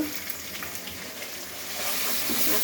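Fish coated in ginger, garlic and cumin paste sizzles steadily in hot oil in a pan, a close, continuous frying hiss that swells slightly toward the end, with no talking.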